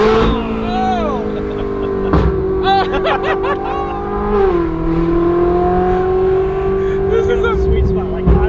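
A Ferrari 458 fitted with a Kline Inconel exhaust revs hard, its loud, close engine howling and climbing through rising and falling pitch, with sharp shift cracks and excited voices over it.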